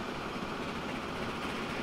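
A freight train runs along the track in the video game Transport Fever 2, giving a steady, close rumble of wheels and engine with no pauses.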